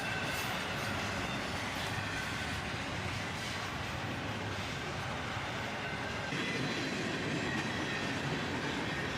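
CSX freight train rolling past with a gray well car, a steady close rumble of wheels on rails with faint clatter throughout, continuous and unbroken.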